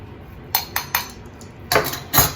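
Spoon stirring ground chia seeds into a breakfast bowl, a series of sharp metallic clinks against the dish, three spaced taps followed by a few quicker scrapes, close and clear with no talk.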